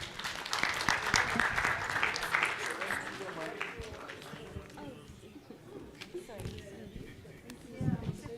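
An alumni event audience applauds after a session closes, a few seconds of fairly close clapping that thins out, followed by murmuring voices and room noise.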